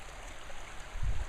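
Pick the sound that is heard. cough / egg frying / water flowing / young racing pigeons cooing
water flowing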